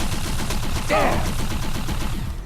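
Rapid gunfire in the Xbox 360 shooter Defiance, a dense stream of automatic shots crackling throughout at close range, with a brief shouted voice partway through.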